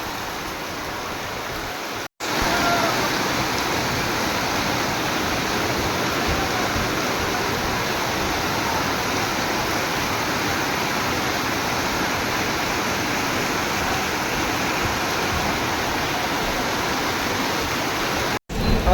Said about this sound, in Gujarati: વરસાદ ધોમ ધોકા ચાલુ થઈ ગયો